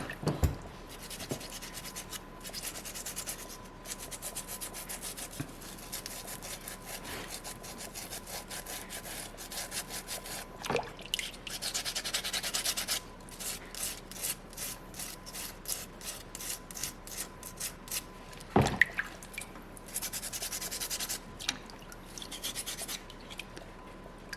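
A coarse carving tool rasps a soapstone seal carving as its blocky edges are rounded off, giving a steady, close, gritty scraping that runs throughout with quicker rhythmic strokes in the middle.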